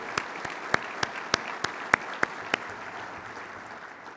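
A few scattered, sharp hand claps ring out in a large hall at Kentucky Chamber Day after a call to applaud the state chamber's leader, spaced irregularly over a quiet room murmur before fading out.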